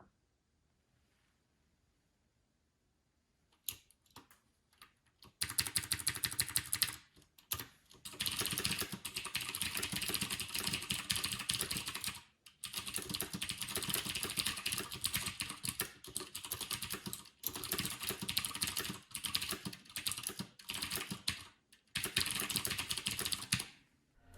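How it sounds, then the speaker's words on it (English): Continuous rapid clacking of a loud mechanical keyboard, dense and close, with a few brief pauses after a quiet opening. "benchmark that against my other mechanical keyboard, which is going to be a lot louder"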